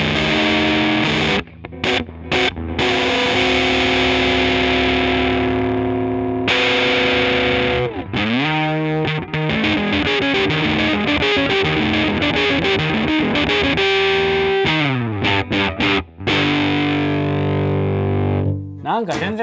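An electric guitar played through a vintage EQD fuzz pedal gives thick, saturated chords and sustained notes with short breaks between phrases, loud and close.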